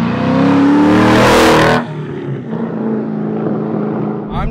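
An LS V8 swapped into a Porsche 911 revs hard under acceleration, a loud rising engine roar that cuts off abruptly partway through, leaving lower road and cabin noise.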